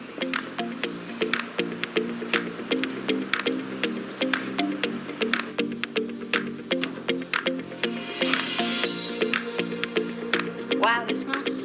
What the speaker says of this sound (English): And finally, we're going to pour the batter in.